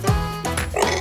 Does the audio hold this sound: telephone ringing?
no